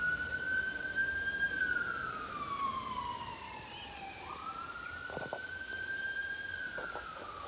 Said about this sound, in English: Just got an emergency vehicle passing by, so we'll let him go on